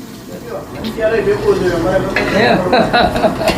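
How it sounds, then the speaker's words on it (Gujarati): Whole spices crackle and sizzle as dal is tempered, a close, busy frying hiss with a metal spoon stirring and scraping in the pan while a person talks throughout. "આ દાળનો વઘાર છે આની અંદર અત્યારે આપણે ખડો મસાલો નાખ્યો આખો મસાલો"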